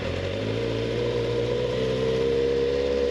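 A 2024 Kawasaki Z900 motorcycle engine with an aftermarket exhaust system running close by with a steady, throaty drone and a slight rise in pitch toward the end, no voices present.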